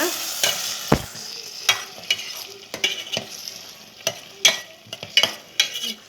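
A bonda chilli mixture with tomato sauce is stirred in a pan, a spoon scraping and knocking against the metal in irregular close strokes over a soft sizzle, with no talk.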